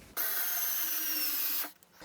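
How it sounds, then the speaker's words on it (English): A Black & Decker power screwdriver drives screws straight into wood without pilot holes while wiring a model railroad layout, a steady close whine lasting about a second and a half before stopping abruptly. "use my power screwdriver from Black & Decker to drive them home"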